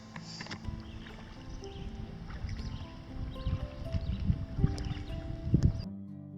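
A canoe is paddled on the Manistique River, with soft rhythmic paddle strokes and water swishing and sloshing near the hull, steady and close.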